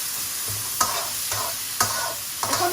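Frozen mixed vegetables fry in a pan for vegetable couscous, giving a steady soft sizzle broken by several sharp scraping stir strokes at irregular intervals, with no talking.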